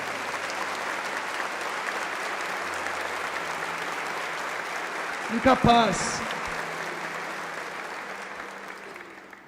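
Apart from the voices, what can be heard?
congregation applause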